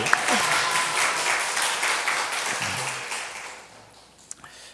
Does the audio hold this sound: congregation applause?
yes